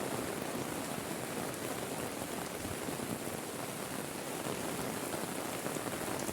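Heavy rain pours over a village, a dense, unbroken hiss of drops striking surfaces that stays constant and fairly close, with no voices or other sounds over it.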